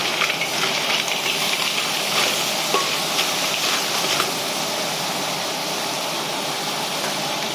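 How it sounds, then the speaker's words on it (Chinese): River snails being stir-fried in a wok, a steady close hiss and crackle of sizzling with faint scraping as the shells are turned, continuous and fairly loud without any talk. "倒入味精之后呢，继续翻炒"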